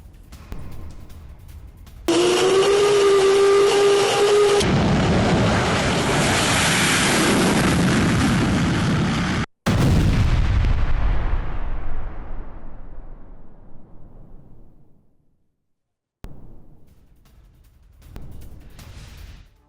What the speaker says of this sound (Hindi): 20 मिनट के भीतर 6 बार बमबारी हुई है।